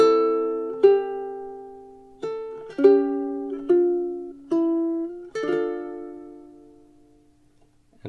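A ukulele plays a slow fingerstyle bar of a song, clear plucked notes and chords sounding one at a time, each ringing out and fading before the next, with no voice.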